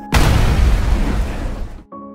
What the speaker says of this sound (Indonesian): tiba-tiba ledakan terjadi.